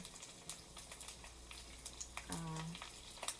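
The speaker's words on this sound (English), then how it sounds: "So I'm putting my dumplings in" Dumplings frying in shallow oil that has been cooled slightly, a faint continuous crackle and sizzle with small pops and splashes, quiet and close, with a brief voice partway through.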